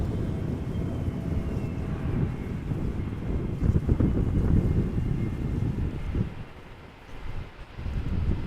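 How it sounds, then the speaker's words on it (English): An EasyJet Airbus A320 arrives at Amsterdam Schiphol from Geneva in crosswind conditions, its engines a steady, distant broadband roar mixed with gusting wind noise, dipping briefly before swelling again. "A320 EasyJet arrival from Geneva"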